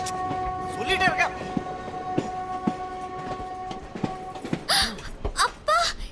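A train rolls along with a steady droning hum and intermittent clanks, while several people shout and call out over it close by.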